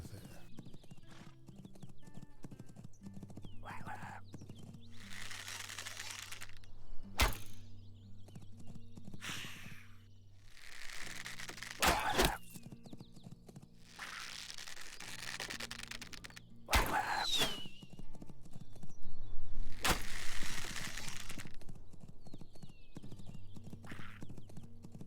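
Horse hooves clip-clop in repeated bursts within the video game Legends of Aria, with an occasional neigh, over a low droning game soundtrack and intermittent sharp effects.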